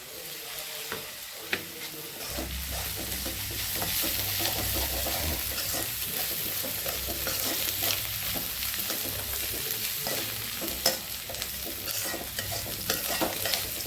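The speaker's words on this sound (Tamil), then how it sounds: "வெங்காயம் வதங்கிடுச்சு நம்ம வெங்காயம் வதங்கும் போது உப்பு போடலை" Onions sizzle steadily in a hot pan for masala dosa filling, with occasional scraping and stirring, a constant crackle close by with no voices.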